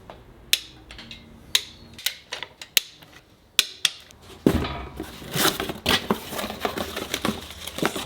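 A torque wrench tightens bolts on a Subaru EJ207 engine, sounding as a run of sharp, close clicks spaced about half a second apart, followed by scattered metallic rattling and handling noise.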